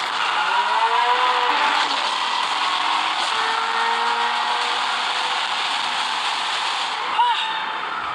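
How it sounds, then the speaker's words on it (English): A twin-turbocharged V8 supercar with a carbon fiber body accelerating hard, a loud sustained engine roar with rising whine and tire noise throughout, heard from inside or close by. "The reason this car is one of the fastest on the planet is because of its twin turbocharged V8 engine"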